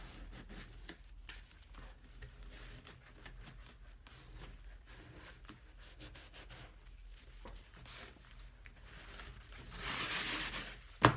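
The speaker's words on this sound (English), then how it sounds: "Take your towel, wipe off any excess." A towel rubs and wipes excess off a cork trifold wallet in soft, irregular scrubbing strokes, faint and close, ending with a slightly louder rustle.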